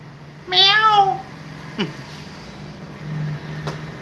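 One clear, drawn-out meow from a cat close by, followed by a couple of faint clicks and low background hum.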